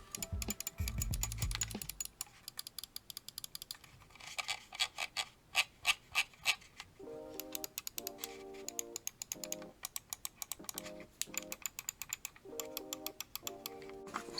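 Rapid, quiet clicking of Logitech G402 Hyperion Fury gaming mouse buttons up close, in quick irregular bursts with a few short pauses.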